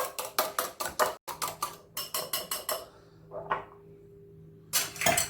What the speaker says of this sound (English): I'll beat this egg up. Let me just whisk it quickly.